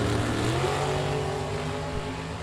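Drag race cars in a bracket race cross the finish line, a loud, steady engine roar with a pitch that shifts slightly as the cars pass, without any talking.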